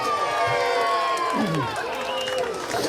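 Crowd at a Claygate street party cheering and whooping, a burst of mixed voices and shouts lasting a few seconds, moderately close.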